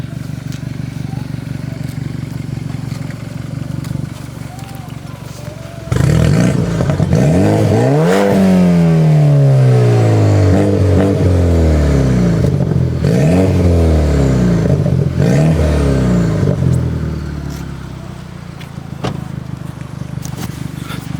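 A BMW car exhaust roars loudly as the engine revs up and down in repeated rising and falling sweeps, then settles back to a steady idle.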